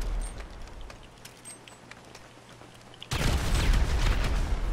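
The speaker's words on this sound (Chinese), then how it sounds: "大爆炸啦！" A big explosion in GTA Online on PS4 erupts suddenly after a few quiet seconds, a loud, close, rumbling blast that keeps roaring to the end.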